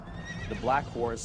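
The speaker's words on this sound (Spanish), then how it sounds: "Y vi aparecer un caballo negro, cuyo jinete tenía una balanza en la mano." A horse whinnies in a documentary scene, two rising, wavering neighs close and clear with faint hoof clops underneath, over a quiet background.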